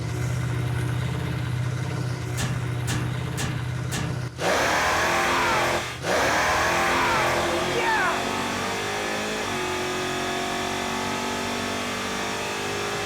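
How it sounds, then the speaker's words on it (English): A Chevrolet Impala drag car, a tire-lifting crusher, makes a violent launch: a loud steady idle with a few sharp pops, then a roaring burst of acceleration that cuts briefly, surges again and holds a long, strained wail up close, with voices under it. "Now, this thing does a pretty violent launch."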